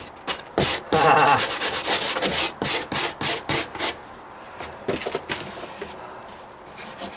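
A large brush scrubbing mold off deck wood, a series of close, loud rhythmic scratchy strokes that come in quick bursts and then thin out.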